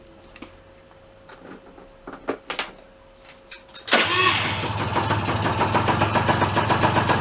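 A Kymco 50cc scooter engine after an exhaust repair: a few scattered clicks and taps, then the small engine fires up at about four seconds and settles into a close, fairly quiet, steady idle with a light pulsing beat.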